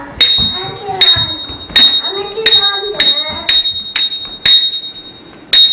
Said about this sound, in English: It's a bell for Annabella.